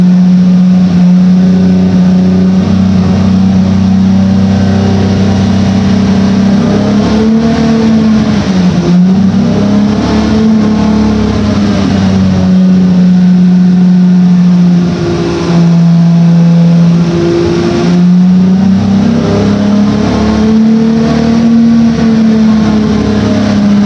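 A car making roughly 480 horsepower revs hard on a dyno, its engine note loud and close, climbing through long pulls, dropping back and rising again several times, with a strong droning tone and no talk.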